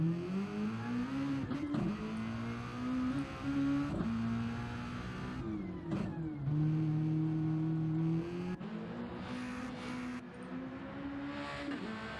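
A race car circuits a racetrack during a GTRC Red Bull Juniors event, its engine droning steadily and shifting pitch through upshifts and downshifts as it accelerates and brakes, loud and continuous with no talk.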